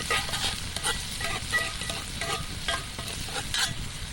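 About a quarter of a sautéed onion fries and is stirred into a cowboy stew, giving a steady crackling sizzle broken by frequent scraping stirs, close and fairly loud, with no talk.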